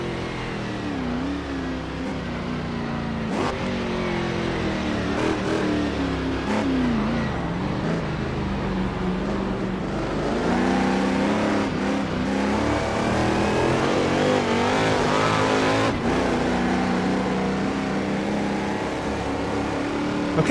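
A Chaparral 2D race car in a racing video game laps the Nordschleife, its engine roaring continuously and loudly while revs rise and drop through corners, with sharp gear-change breaks punctuating the drone.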